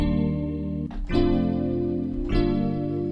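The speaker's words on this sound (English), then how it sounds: "Very lush, nice sounding DX piano." A lush vintage DX-style electric piano plays sustained chords with a soft chorus shimmer, changing chords twice, warm and close with no other sounds.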